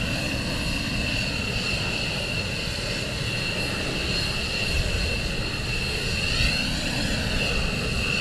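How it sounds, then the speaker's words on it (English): Military jets on approach to land at RAF Lakenheath during morning surge operations give a loud, continuous engine roar with a rising whine as the aircraft pass. "Two more on approach."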